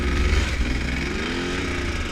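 Two-stroke KTM snowbike engine revving in first gear at low speed, a loud, steady buzzing drone that holds high revs throughout.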